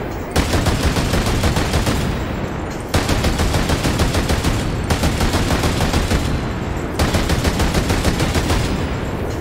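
Mounted gun in a Ghost Recon video game firing long, rapid, loud automatic bursts, three sustained strings separated by brief pauses.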